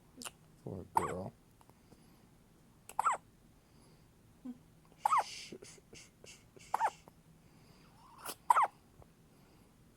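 A newborn baby girl hiccups repeatedly, sharp little catches spaced a second or two apart, close and soft in a quiet room with faint breathing between.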